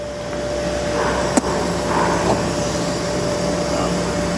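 A Kitamura HX1000 horizontal machining center spindle turns at low RPM, a steady mechanical hum with a faint tonal whine over a broad airy drone and one short clank, and no speech.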